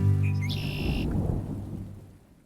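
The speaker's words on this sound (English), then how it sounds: "It's a very stormy day here in Scotland" Stormy Scottish weather brings a low rumble of thunder with rain in the background, a deep rolling swell that fades over a couple of seconds, heard alone at moderate loudness.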